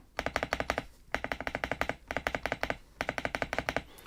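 Spacebar presses on an MSI Forge GK600 TKL wireless hot-swap keyboard come in quick bursts of sharp, thumpy clicks, several rapid taps per burst with short pauses between, close and clear with no talking.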